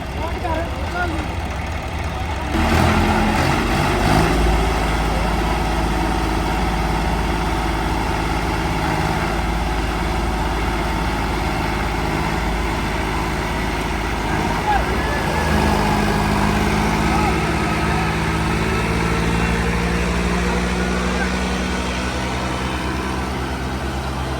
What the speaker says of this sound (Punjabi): ਆਪਾਂ ਜੀ ਨਿਕਲਣਗੇ ਟਰੈਕਟਰ ਸਾਰੇ ਬਾਹਰ